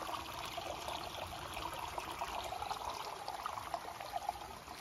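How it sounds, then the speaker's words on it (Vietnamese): A stream flows behind a rural plot of land in Cẩm Mỹ, Đồng Nai, a steady, faint trickling and rushing of water that continues without a break. "Suối nè, suối đang chảy luôn nha quý anh chị."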